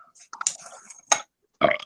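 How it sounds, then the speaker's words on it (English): Short burps from a person at a fast-food mukbang livestream: two or three brief, close, loud eructations separated by short pauses, with no talk over them. "I love the burping"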